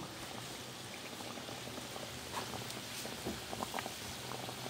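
Kachori frying in hot oil, a soft, continuous bubbling hiss with scattered pops and crackles. Fairly quiet and steady, with no voices.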